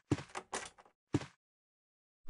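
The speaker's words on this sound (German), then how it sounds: "So, wir haben die Tür, das Türl wieder entsperrt." A door being unlocked in the video game Resident Evil (Dreamcast), heard as three short mechanical clatters close together, then a pause and a faint click at the end, with no talk.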